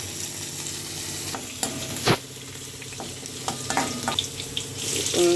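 Curry leaves and onions sizzle in hot oil, a steady frying hiss broken by a few sharp spatula scrapes and knocks against the pan.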